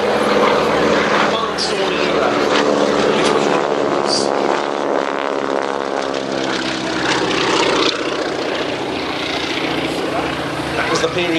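A vintage biplane at a wingwalking airshow drones overhead with a steady propeller engine roar that holds loud throughout, while a voice talks over it.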